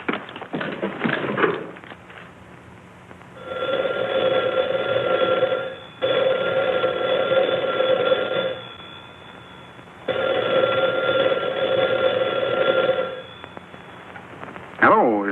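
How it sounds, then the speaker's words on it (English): A telephone in a Roy Rogers western rings in three long, loud bell bursts with pauses between them, and brief voices come before and after. "It rang, and I took off the receiver unthinkingly"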